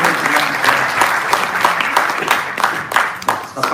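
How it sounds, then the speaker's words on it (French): An audience at a memorial ceremony claps, a dense, lively burst of applause close by, steady throughout with a few voices mixed in. "Que l'on applaudit."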